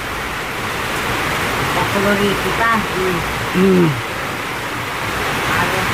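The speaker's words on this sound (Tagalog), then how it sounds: "Malakas ang ulan." Heavy rain pours steadily as a loud, dense hiss filling the whole clip, while someone speaks briefly over it.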